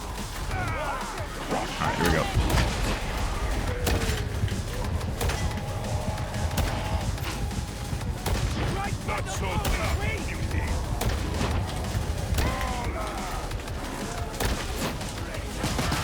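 Heavy Ogryn gun shots in Darktide amid a busy combat din of crashes and impacts, with someone talking throughout.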